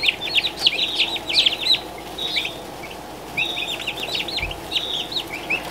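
Chicks and young turkeys in a brooder peep continuously in high, rapid chirps and trills, close and fairly loud, with short pauses between bursts and no talking.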